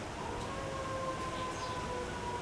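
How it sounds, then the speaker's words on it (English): Faint, distant sirens wail with thin rising and falling tones over a steady background hum of ambient noise. "Uh-oh, sirens."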